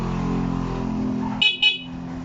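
A short double toot from a modified horn on a Barako 175 motorcycle with a full-wave electrical setup, two loud close blasts following a steady engine-like hum.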